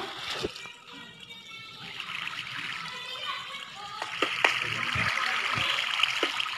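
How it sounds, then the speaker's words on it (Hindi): Lots of water gushes and splashes out in a village setting, a continuous close rushing flow with scattered sharp splatters and knocks, no clear speech over it. "बहुत ज़्यादा ही आ रहा पानी"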